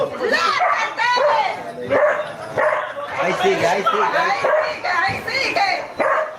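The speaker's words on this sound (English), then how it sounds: "Yeah, of course the dog's going to be barking." A dog barks and yips repeatedly at night outdoors in Peru, the barks mixed under near-continuous excited talking from people nearby.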